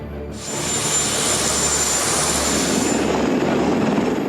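Marine One, the US presidential helicopter, roars loudly and steadily with a dense whine of engines and rotor wash, rising sharply at the start and holding strong throughout, with no one speaking.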